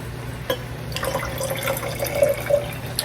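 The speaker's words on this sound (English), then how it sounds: "of water, and to that we are going to add 1/4 of a cup of regular white vinegar" A quarter cup of plain white vinegar is poured into a few tablespoons of water for a pasta dish, making a light trickling, splashing flow over a low steady kitchen hum with no talking.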